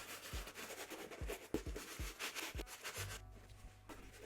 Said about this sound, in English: So we will take our brush, put it in the clean water to kind of get rid of some of the dirt and grime.